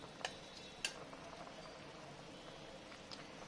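A pot of fish and ridge gourd curry simmers quietly, with soft bubbling and a faint liquid hiss broken by a few small pops and clicks, and no voices.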